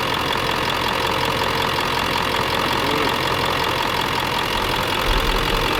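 A Dodge pickup's Cummins diesel engine idles with a steady, rough rumble, close and continuous for the whole stretch, with no voices over it.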